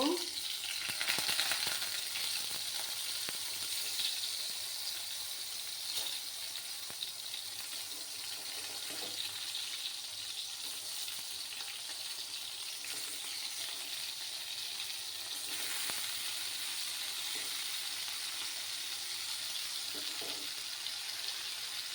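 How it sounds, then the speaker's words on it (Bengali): Brinjal pieces fry in hot mustard oil in a pan over a lowered flame, a continuous gentle hiss with occasional faint clicks, steady and fairly quiet. "এবার আমি গ্যাসের আঁচটাকে কমিয়ে দিয়ে বেগুনগুলোকে একটু ফ্রাই করে নেব"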